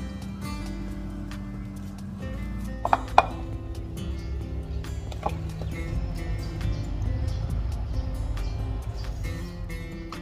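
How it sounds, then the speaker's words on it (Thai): Irregular knife chops cutting mango into bite-size pieces on a cutting board, with a couple of sharper knocks midway, over a low background hum. "หั่นชิ้นขนาดพอคำนะคะ"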